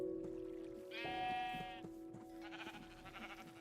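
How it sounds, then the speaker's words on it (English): Sheep in Minecraft give a few short, nasal bleats over a low steady background hum, close and clear, with no talk. "Alright, so we'll have some more sheep."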